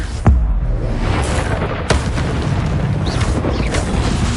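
Confringo spell blast in Hogwarts Legacy, a loud booming explosion with sharp cracks at the start and again near the middle, followed by rumbling debris.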